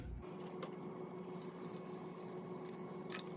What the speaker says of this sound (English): The next step is to add water.